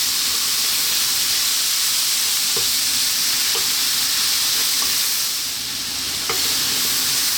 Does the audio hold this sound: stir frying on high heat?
yes